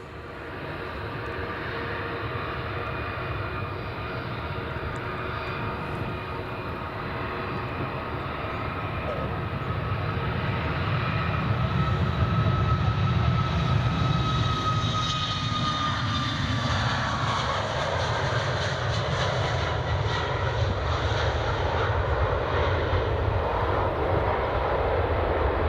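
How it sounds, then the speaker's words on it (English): A Ryanair Boeing 737 Max takes off at Edinburgh Airport, its jet engines building into a loud, sustained roar with a high whine that holds steady throughout, heard alone from a spotter's position. "That's Ryanair up and away."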